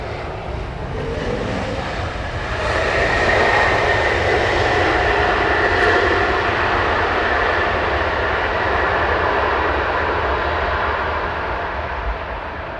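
A jet airliner roars over the M25 from Heathrow Airport runway 27R, a loud, broad, sustained rumble that swells and holds steady for over twelve seconds with no talk.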